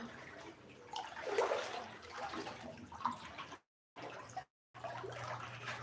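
Floodwater sloshes and splashes faintly around a flooded house, with quiet irregular watery movements and a couple of brief silent gaps.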